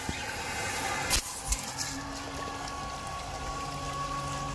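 An electric water pump motor runs with its outlet pipe capped shut, a steady strained hum with water churning, a couple of clunks early on, close and continuous with no talking.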